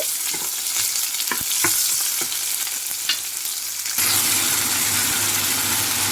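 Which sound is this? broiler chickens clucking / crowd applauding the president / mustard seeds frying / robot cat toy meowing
mustard seeds frying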